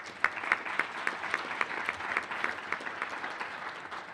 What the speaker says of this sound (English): I'd like to give you all a round of applause for the work that y'all are doing there.